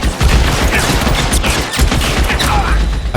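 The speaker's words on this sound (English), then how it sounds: "I shot him in the head, but okay." Rapid gunfire from the video game L.A. Noire, a dense burst of shots layered into a loud, continuous clatter with no talk over it.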